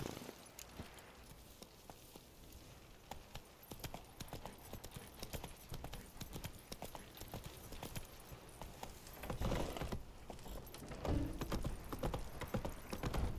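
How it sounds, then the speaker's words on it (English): Hooves of Geralt's horse Roach in The Witcher 3 clip-clopping at a steady walking rhythm, growing louder and busier toward the end, with faint game ambience beneath. "нам треба нашого коника"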